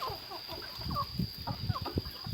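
Chickens clucking close by, a busy scatter of short clucks and chirps over a steady high electrical whine.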